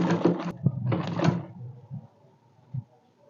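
A sewing machine stitches bias binding onto a dress neckline in quick, close bursts of whirring, then stops, followed by a few faint mechanical clicks and handling knocks.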